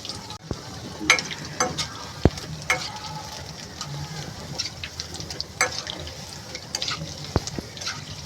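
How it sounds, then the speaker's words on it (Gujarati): Muthiya dumplings deep-fry in hot oil for a Kathiyawadi undhiyu, a loud, close, steady sizzle and crackle with scattered sharp pops and stirring knocks, and no talk. "હવે આપણે મુઠિયા તરી દઈશું."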